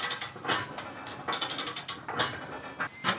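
Ratcheting metallic clicks from a nut being turned on the post of a vintage car lift, short close bursts of mechanical ticking in quick rhythmic strokes with brief pauses between.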